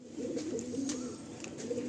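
A pair of Madrasi breeder pigeons coo low and continuously at close range, a soft throaty rolling sound with no talking.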